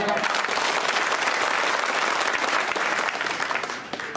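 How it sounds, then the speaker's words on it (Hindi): Dense, steady applause from a large crowd at an outdoor political rally in Madhya Pradesh, sustained throughout and tapering slightly at the end. "याद है, ताली लगा।"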